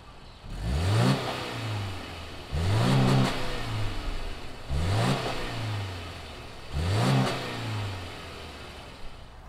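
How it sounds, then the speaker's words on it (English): Flat-four engine of a 2020 Subaru Forester SUV, touring trim, revved four times in a steady rhythm from idle, each blip rising sharply and settling back, close and fairly clear with no talk. "fire up this flat four and see what it sounds like"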